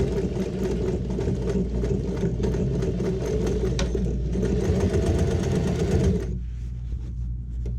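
A sewing machine runs steadily while stitching a seam on a fabric toiletry bag, a close, continuous rapid mechanical whirr and needle clatter that stops abruptly near the end, leaving quiet.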